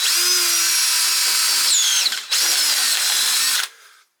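A handheld power drill bores through material in a steady, loud whine that holds for about two seconds, dips briefly, then resumes before cutting off.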